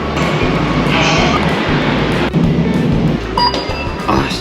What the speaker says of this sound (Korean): 아, 지하철이다.